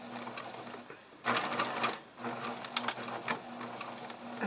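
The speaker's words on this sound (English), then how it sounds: "I'm going to do a little bit of a back stitch over the edge of that." Sewing machine running a short back stitch over the edge of a fabric face mask's ear loop, a close, steady mechanical hum with a brief louder burst of rapid stitching in the middle.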